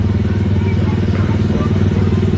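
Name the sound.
slow ride car at Disneyland Paris driving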